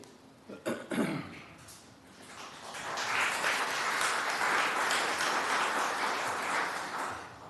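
At a city commission meeting, a few coughs and claps at first, then a room audience breaks into sustained applause and cheering that swells, holds for several seconds and tapers off.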